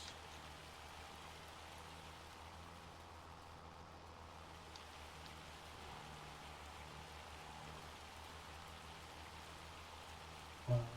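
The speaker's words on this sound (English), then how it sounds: "It is still raining." Steady, even rain falls across a farm in Farming Simulator 25, a continuous soft hiss with no pauses and a faint low hum beneath, ending in a brief thump.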